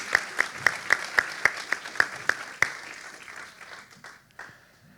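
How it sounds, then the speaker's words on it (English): At a summer party, an audience applauds a volunteer joining the stage, a rhythmic run of sharp, loud claps in a steady beat that breaks into looser scattered clapping and dies away. "Let's give him a huge round of applause."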